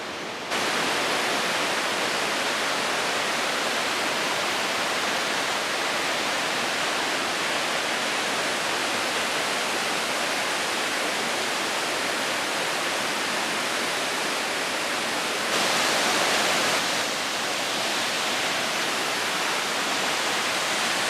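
The Traunfall waterfall rushes in a loud, dense, unbroken roar of falling water, heard up close and steady throughout with no voices.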